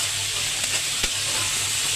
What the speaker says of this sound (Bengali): এখন আমি মশলার মতো চিংড়ি মাছটা ভালোভাবে কষিয়ে নেব।